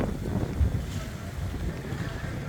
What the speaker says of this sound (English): It is a little breezy here in Key West.